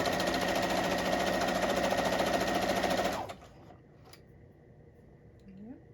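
Sewing machine running steadily while stitching quilt fabric with pink thread, a loud dense whir for about three seconds, then stopping abruptly into near quiet with a faint brief voice.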